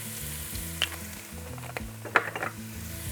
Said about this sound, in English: we've got that all frying off and smelling outrageous